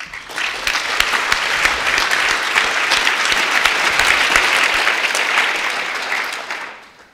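An audience applauds steadily and warmly to welcome the RIBA President, Angela Brady, to the stage at an evening event. The dense clapping holds for about seven seconds and fades out at the end, with no talk over it.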